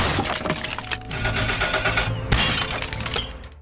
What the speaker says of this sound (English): A couple of thugs start smashing the vehicle, and Ed and Simon are yanked outside